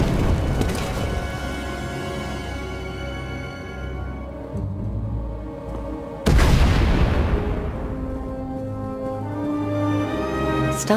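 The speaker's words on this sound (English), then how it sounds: "We heard explosions." Deep booming explosions in the video game Star Wars: The Old Republic roll out one after another, with a big blast midway followed by long rumbling decays and ringing tones.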